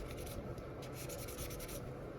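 A custom metal Beyblade wheel is sanded by hand in quiet, continuous rubbing strokes with a faint rhythmic scratch, close and alone.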